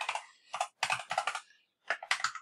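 Fingers type on a computer keyboard, with quick clusters of close, crisp keystrokes separated by short pauses.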